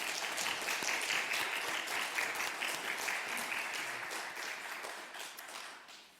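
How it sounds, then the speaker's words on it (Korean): A church congregation applauds in welcome during a Sunday worship service, a dense wash of clapping from many hands that holds steady and then fades out toward the end. "우리 환영하는 박수 한번 하도록 하겠습니다."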